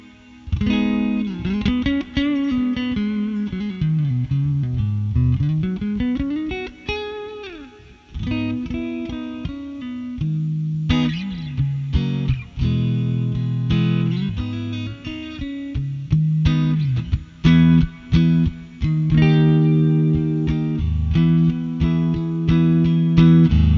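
Electric guitar played alone through a Joyo Atmosphere reverb pedal on its church setting, a deep, dark reverb, notes and chords blooming into a large, washy room sound with long tails.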